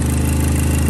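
A car engine idles close by with a loud, steady low rumble and an even, pulsing throb throughout.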